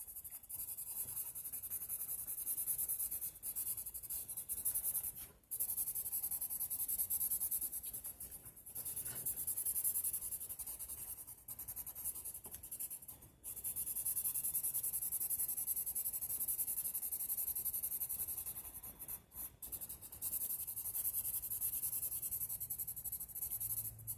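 A pencil scratches steadily on paper while coloring in a drawing of glass windows, a faint, close, continuous rubbing with a few brief pauses between strokes.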